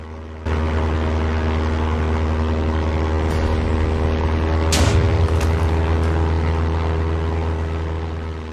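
An airplane's engine drones in a Minecraft animation, a steady propeller hum that starts abruptly, holds loud and constant, then fades slightly toward the end, with no talk.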